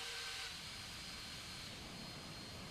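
Boeing 747 jet engines spooling up on light throttle during a taxi turn in a flight simulator, a steady broadband roar and hiss that holds at constant level throughout, no talking.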